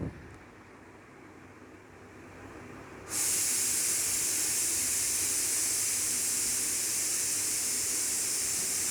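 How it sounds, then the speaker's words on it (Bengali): Onions being stirred and fried until brown in a pan for meat bhuna, a soft hiss at first that jumps to a loud, steady, close sizzle partway through and holds. "তারপর সুন্দর মতো আমার নাড়া দিচ্ছে যাতে পেঁয়াজটা বাদামি হয়ে যায় আর লেগে না যায়।"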